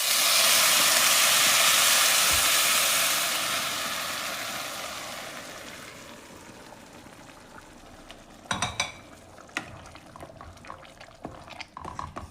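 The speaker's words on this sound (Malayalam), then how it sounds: "ഇനി നമുക്ക് ഈ വെള്ളം അരിയിലേക്ക് ഒഴിക്കാം." Boiling water poured onto roasted rice for tomato ghee rice sets off a loud, broad rushing sizzle that fades over several seconds, then sporadic stirring clatter and scrapes in the pan near the end.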